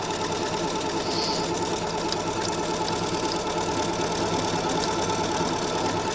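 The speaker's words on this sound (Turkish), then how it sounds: "Dikiş makinesiyle köpek dikiyorum ben." A sewing machine runs steadily, its rapid mechanical needle stitching forming a continuous rattling hum close by, with no talk over it.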